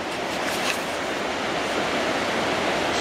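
A steady, fairly loud rush of flowing water from Enlow Creek along a trail, with an even, unbroken wash of noise and no voices.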